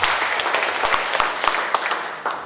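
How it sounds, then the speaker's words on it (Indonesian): An audience at an official education department visit in Gresik, East Java, bursts into dense, sustained applause with many hands clapping at once, close and loud throughout. "Tepuk tangan untuk Ibu Uji."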